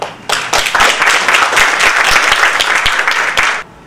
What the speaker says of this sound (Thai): ในโอกาสนี้ขอเสียงปรบมือในต้อนรับคุณกิติพรธรรมมงคล